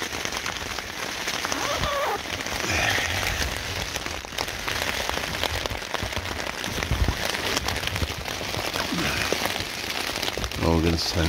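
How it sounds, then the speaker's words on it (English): Steady heavy rain drumming on a tent overhead on Dartmoor, a constant dense patter with gale-force gusts of wind, close and loud throughout. "Rain blowing a gale right now."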